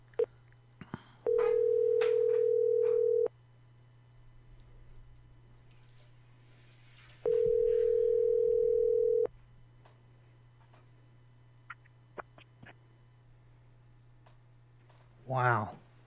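A telephone line tone sounds after a caller hangs up: two long, steady, loud beeps about two seconds each, separated by a pause, over a constant low line hum with a few scattered clicks.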